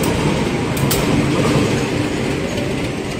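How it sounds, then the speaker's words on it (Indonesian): Train rolling into Bogor station on track 3, a loud continuous rumble of wheels and carriages with rattling, grinding mechanical noise, close by and steady throughout. "Jalur 3 dari arah selatan masuk kereta api nanti ya, jalur 3 dari arah selatan masuk kereta api."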